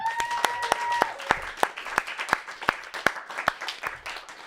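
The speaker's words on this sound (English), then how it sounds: "You can now put down the mic, walk up the stage, and people will applaud." An audience at a comedy show claps sparsely, individual sharp claps ringing out one by one at an uneven pace, with a brief tonal sound early on and faint voices underneath.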